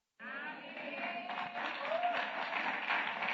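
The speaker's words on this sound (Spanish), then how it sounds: "Eso merece un mejor aplauso" Christmas church congregation breaking into applause, a dense burst of clapping that starts abruptly and holds steady, with voices cheering and calling out beneath it.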